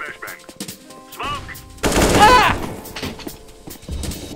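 Gunfire bursts in the video game Counter-Strike, a quick rattle of shots rising to a loud, dense volley near the middle of the clip, with a few scattered sharp pops before and after.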